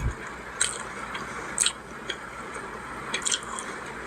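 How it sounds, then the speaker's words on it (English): Wet, squishy chewing and smacking sounds come in a few brief bursts, close to the mic, against a quiet background. "I can hear the eating noises"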